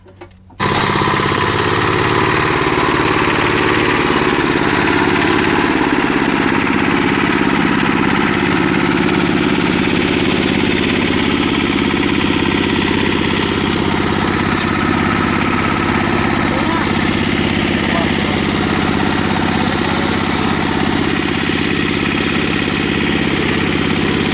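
A walk-behind tractor hills potato rows with combined disc hillers. Its engine runs loud and close from start to finish with a steady mid-pitched drone, after a brief quieter start.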